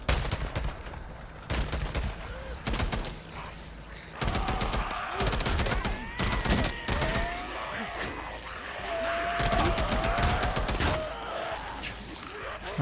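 Machine gun fire in the video game Days Gone comes in sharp, loud bursts of rapid shots, broken by short pauses, with scattered game effects between the volleys.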